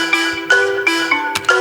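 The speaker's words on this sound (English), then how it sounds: "It's the balafon, which sounds like this." A balafon, the West African wooden xylophone, sampled from a sound library and played as a bright melodic line of struck, ringing notes, with a few sharp mallet attacks over a steady sustained tone, loud and close with no voices.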